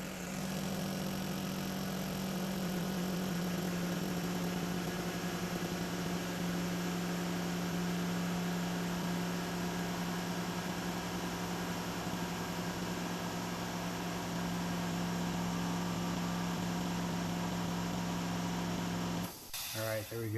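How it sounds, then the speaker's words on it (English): Air compressor running steadily as it fills its tank, a continuous loud motor drone with a constant low hum and broadband rush lasting nearly twenty seconds, then cutting off abruptly near the end. "this compressor fills up with air really fast"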